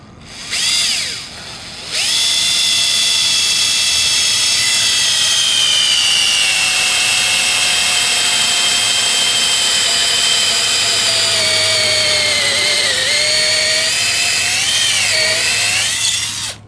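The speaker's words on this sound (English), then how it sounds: "take your 3/8 inch drill bit and your drill and drill the hole where you've marked" A power drill with a 3/8 inch bit whines loudly and continuously up close, its pitch dipping slightly as it bores through a boat transom, after a brief initial spin-up.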